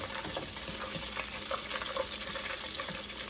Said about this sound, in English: That's some pretty fried quail right there.